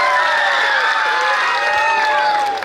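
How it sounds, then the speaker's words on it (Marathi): An audience at a public interview event bursts into strong applause mixed with cheering voices, a loud, crowded sound that swells and then tapers off near the end. "त्याबद्दल जोरदार टाळ्या वाजवायच्या आहेत त्यांच्यासाठी"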